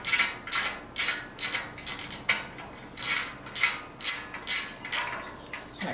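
Wrench ratcheting on the exhaust bolts of a Honda VTX1300R motorcycle: repeated short bursts of crisp metallic clicking in a steady rhythm, close and clear, with no talk.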